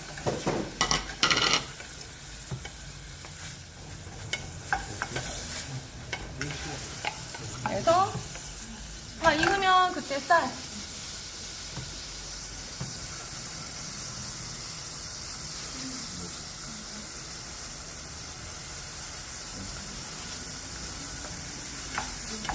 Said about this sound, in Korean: 넣어서 같이 볶아주세요.